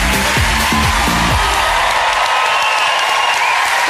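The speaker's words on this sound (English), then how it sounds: "Give him a round of applause." Studio audience applause on a Saturday night TV entertainment show, a loud dense wash of clapping with some cheering and whoops, strongest at the start with a few low voices over it, then easing into a steady broad roar.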